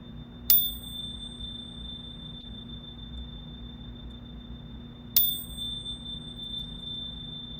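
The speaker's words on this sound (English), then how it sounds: "we're just going to start out with these beautiful chimes" Two bright metallic chime strikes ring out a few seconds apart to open a book launch gathering, each with a sharp attack and a long, clear shimmering decay over a low steady hum.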